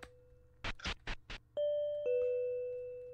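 A doorbell chime in a horror video game, Natsu Yuurei, sounds as two sustained ding-dong tones. A few short scratchy knocks come just before, with no talking.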